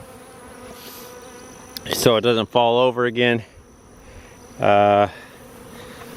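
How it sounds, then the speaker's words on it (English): Honey bees swarm and buzz around a beehive knocked over by fighting bulls, a steady insect drone beneath a voice that speaks in a few short bursts. "I've got bees all in this box."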